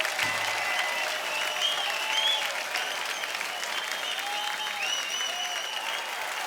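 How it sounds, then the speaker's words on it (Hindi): A studio audience at a comedy talk show claps steadily, a continuous moderate wash of applause with faint crowd murmur and scattered whistle-like tones running through it. "जोरदार तालियां एक बार।"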